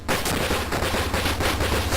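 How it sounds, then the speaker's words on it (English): Rapid, continuous gunfire from the 1985 Sega/Kyugo arcade shooter Flashgal, a dense stream of sharp shots with no pauses, loud and steady across the whole stretch with no voices. "Once you have the weapon, don't spare the ammunition because it's infinite. Just keep shooting the hell out of everything."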